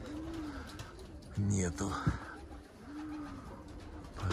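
Pigeons cooing nearby in repeated soft, low phrases, with a person talking over them in Russian.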